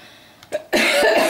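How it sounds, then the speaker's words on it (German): A single close cough bursts out after a brief throat sound during a German-language Star Wars: The Old Republic gaming session, loud and alone with no talk. "Husten und so."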